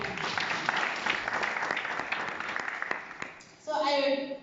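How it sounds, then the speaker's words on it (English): A crowd claps at an eleventh anniversary church gathering, a steady spread of many hands that fades near the end, when a single voice briefly takes over. "So let's clap for them."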